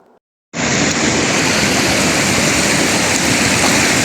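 Rushing river water near a waterfall in the Himachal mountains, a loud, steady broadband roar that bursts in after a brief quiet moment and continues unbroken, close and dense.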